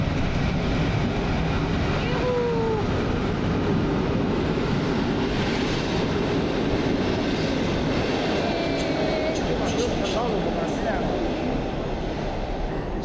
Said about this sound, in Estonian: Aga rong vist liigub.